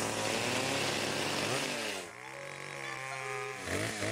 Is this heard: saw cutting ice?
yes